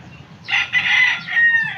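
A rooster crows once, a loud drawn-out call with a rising start and trailing end, close by, with no talking.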